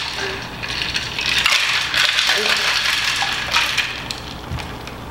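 Ice rattles inside a cocktail shaker as a ginger mojito with light rum is shaken, a steady close-up clatter that runs for several seconds.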